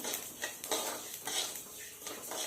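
Niger seeds roast in a pan over a low flame while being stirred, giving a close, soft crackle with repeated scraping strokes.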